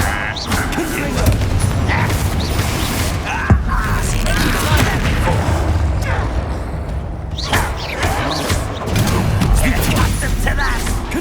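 Fiery Confringo spell blasts from the Hogwarts Legacy game burst out as repeated booming explosions over a dense, loud roar of combat, with a voice calling out amid the noise.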